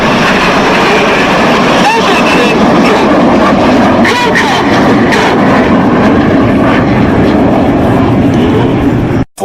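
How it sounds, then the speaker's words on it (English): Red Arrows jets flying a formation display at an air show in Oregon, a loud continuous roar filling the whole clip, with a crowd talking underneath. "Red 1 about to bank the aircraft to the left, changing smoke colour as they go in Tornado."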